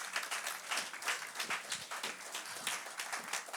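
A church congregation claps together during a French-language worship service, a dense, fairly quiet wash of many hands beating in loose rhythm with no voices over it.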